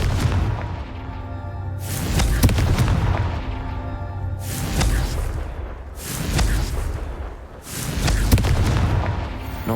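Confringo explosion spells in Hogwarts Legacy go off as four heavy, booming blasts at roughly two-second intervals, each a loud burst that rumbles and fades before the next.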